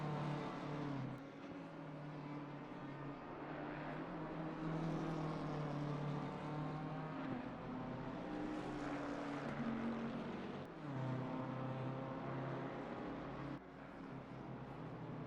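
BMW race car on the Kyalami circuit in a racing video game, its engine droning steadily with harmonic whine, shifting pitch a few times as it runs through gears over a continuous loud bed of track noise.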